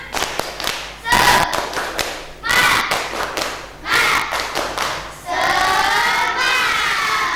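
A classroom group claps in short rhythmic bursts, several rounds of fast clapping separated by brief pauses, with voices mixed in.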